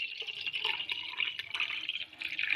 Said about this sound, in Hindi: ये पानी डाल के बस रख देती हूँ